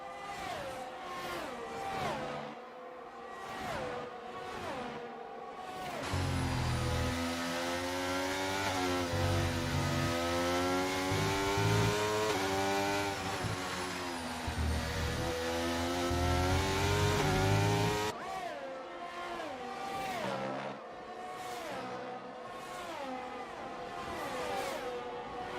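F1 race car engines in a racing video game at a wet Belgium round, revving and shifting through gears with high whining tones, one car swelling loud and close in the middle before the others return.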